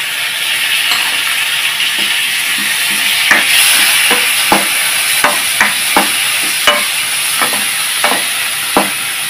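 Onion and tomato sautéing in a pan for Kumbakonam kadappa, a loud continuous sizzle and hiss punctuated by a regular series of sharp spoon taps and stirring knocks.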